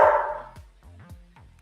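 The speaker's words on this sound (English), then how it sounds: "Dogs agree." Dogs bark a few times in the background during a live online poker broadcast, giving short sharp yaps with pauses between them and no talk over them.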